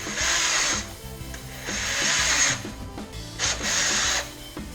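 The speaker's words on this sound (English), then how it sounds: "So what I do is I'll drill every one of these out" A 3/8 bit drills vent holes in stainless steel before welding. Three close, steady whirring runs of the power drill, each about a second long, with brief pauses between them.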